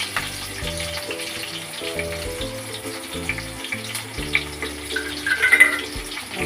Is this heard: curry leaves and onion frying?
yes